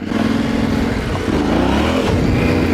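A Yamaha Tenere 700 adventure motorcycle riding off-road, engine note rising briefly as the throttle is opened a little, loud and close with a continuous rough drone and a slight lift in pitch.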